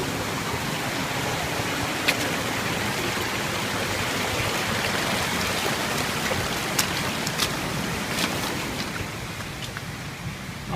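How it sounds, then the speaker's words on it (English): Steady rain hisses evenly all around in the Grand Canyon in February, with a few faint drips and taps standing out now and then, no voices. "But the rain's going to get worse."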